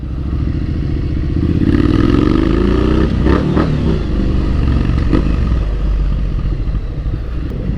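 A Triumph Street Scrambler 900 motorcycle engine revs up sharply from idle, rising in pitch, then settles into a loud rumbling idle with a few clattering pops.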